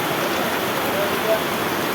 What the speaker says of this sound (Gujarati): ફૂલ વરસાદ અત્યારે વાગ્યા 4 વાગી ગયા.